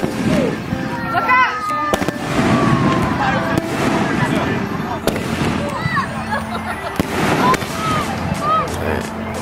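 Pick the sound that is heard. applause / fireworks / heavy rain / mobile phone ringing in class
fireworks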